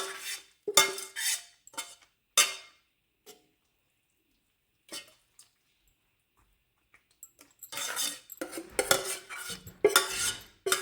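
Metal spoon stirring tomato into bisibele bath in a cooking pot, a series of sharp scraping and clinking strokes in bursts with a quiet pause in the middle, close and fairly loud, no talking.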